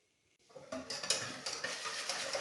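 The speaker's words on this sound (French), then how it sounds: "On va bien mélanger. On contrôle que rien n'a collé au fond." A spoon stirs milk into a mixture in a pot while making a no-bake Napoleon cake, starting from silence and then scraping and clinking steadily against the pot close by.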